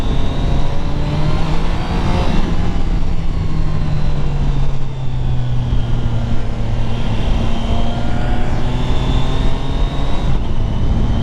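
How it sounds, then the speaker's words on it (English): Triumph Tiger 660 Sport motorcycle ridden at speed, a loud steady engine drone with rising pitch sweeps and brief dips as gears change through the quick shifter, plus wind noise. "I'm trying to use the quick shifter just to like see like how smooth it is"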